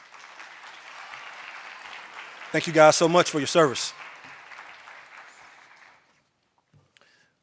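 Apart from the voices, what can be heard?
audience applause for the pianist and flutist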